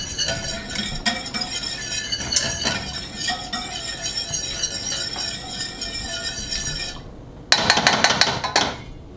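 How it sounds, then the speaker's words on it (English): A metal whisk clinks and scrapes rapidly against a cooking pot while stirring a sauce toward a simmer, a busy ringing clatter that pauses briefly before a louder burst of quick strokes. "I'm going to mix it up with a whisk."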